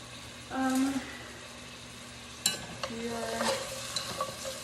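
Onions frying in a pan, stirred with chopsticks, a soft continuous sizzle broken by a few scraping strokes and light clinks, close and moderately quiet, with no talking.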